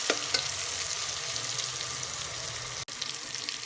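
Chopped tomato fries in a pan with masala for zeera rice, a steady, hissing sizzle held close and fairly loud, with a couple of light clinks early and a brief cut near the end.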